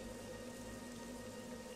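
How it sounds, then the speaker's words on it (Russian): Steady rain falls in the Morrowind Tamriel Rebuilt game world, a dense continuous hiss with no breaks or voices. "дождь какой"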